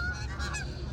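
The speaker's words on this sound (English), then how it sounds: "Oh, the geese are traveling." Geese flying overhead give a brief cluster of loud nasal honks, a few overlapping calls within a second over background rumble.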